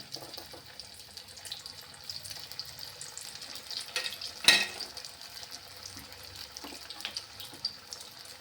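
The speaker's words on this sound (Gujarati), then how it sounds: "આપણે તળી લેશું. આપણું તેલ સરસ ગરમ થઈ ગયું છે." Farali cutlets go into hot oil and give off a soft, continuous sizzle, faint and close, broken once midway by a short sharp clatter.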